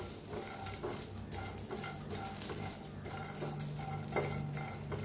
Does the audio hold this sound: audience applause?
no